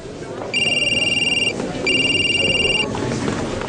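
A telephone rings in two warbling bursts, each about a second long, over a dense background of murmuring and room noise in a drama scene.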